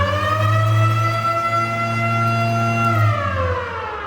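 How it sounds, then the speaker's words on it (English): An old-school mechanical siren on a 1964 Ford Galaxie 500 police car replica wails loud and close, a sustained rising tone that holds steady, then drops in pitch as it winds down. "And this one here, old school siren."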